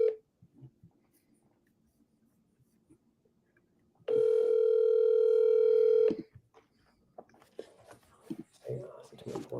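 A telephone dial tone holds steady and loud for about two seconds, preceded by quiet background murmur and followed by people talking.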